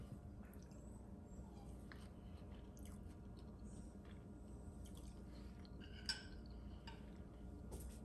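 Soft, close chewing on a bite of a traditional Barbados coconut dish, with faint wet squishing, a small clink near the end, and a low background hiss.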